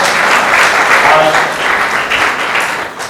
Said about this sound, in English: You can just give a round of applause.